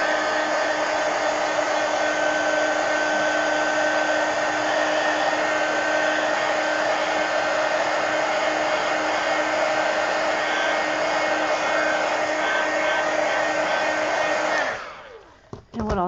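A hair dryer blows over wet blue paint in a mixed-media painting, a loud, close, steady whir that holds unchanged for about fifteen seconds before clicking off and winding down.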